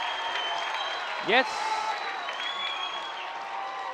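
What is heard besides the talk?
football crowd cheering a touchdown catch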